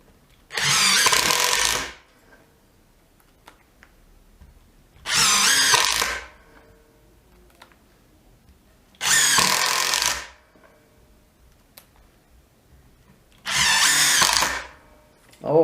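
A DeWalt DCF801 brushless 12V impact driver runs in four loud, close bursts of about a second each, separated by quiet pauses of two to three seconds.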